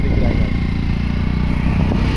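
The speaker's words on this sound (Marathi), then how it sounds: "ती सुद्धा बाईक चालवते बघा गाईस।" A motorcycle ridden through a village gives a steady, loud, low engine drone, with someone talking over it.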